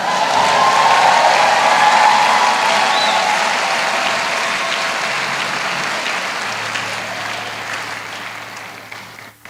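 A church congregation applauds and acclaims, a loud, dense wash of clapping that starts at full strength and slowly thins and fades toward the end.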